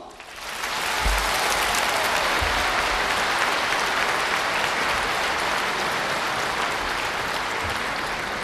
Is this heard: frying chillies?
no